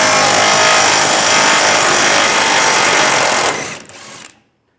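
A tool runs continuously on a 21mm bumper bolt of a 2007-2013 Chevrolet Silverado 1500 as the rear side bumper end is removed: a loud, steady whirring buzz for about three and a half seconds, then it cuts out and trails off to silence.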